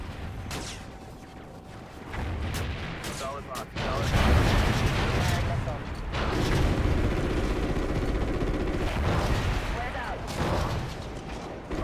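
A missile launches and explosions boom in the Call of Duty Ghosts video game, loud heavy rumbling blasts building over several seconds with radio-style voices talking over the combat.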